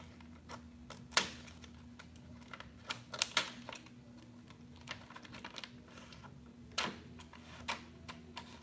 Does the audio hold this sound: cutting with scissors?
yes